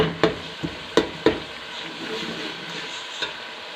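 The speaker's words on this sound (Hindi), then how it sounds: "इसको 2 से 3 मिनट तक हम भूनेंगे।" Halim ingredients frying in a pan, with a low continuous sizzle broken by several sharp scraping stirs early on, then quieter frying with one last scrape near the end.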